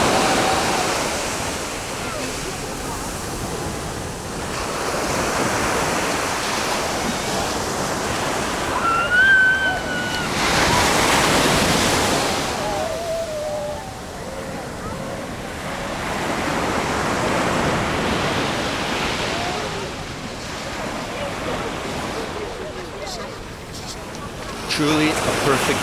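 Broad, steady roar of ocean surf washing in and out at Faro Beach in the Algarve, Portugal, with swells rising and falling over time; a voice speaks briefly over the waves.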